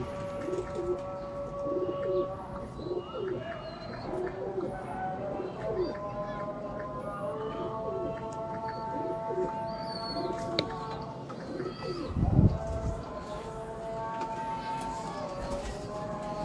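Rooftop pigeons of a fancy breed cooing in soft repeated calls, several birds near and overlapping, with a brief thump of movement partway through.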